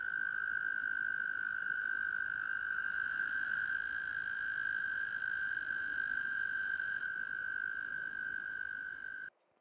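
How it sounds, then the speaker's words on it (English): A chorus of frogs at night on a farm on Manitoulin Island, Ontario, forms a continuous high whining trill, steady and far off, with faint insect sounds. It runs without pause until it stops abruptly. "That's the frogs singing."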